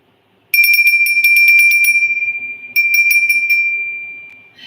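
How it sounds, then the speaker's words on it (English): A small decorative bell about 7.5 inches tall rings in two bursts of rapid bright tinkling strikes, loud and close, each ringing out and fading to a clear sustained tone. "That's a nice bell, you guys. And listen to that angelic sound."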